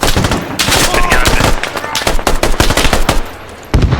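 Gunfire in the tactical shooter Squad during close urban combat: rapid automatic bursts and sharp shots crackle loudly almost throughout, with a brief lull near the end before firing resumes.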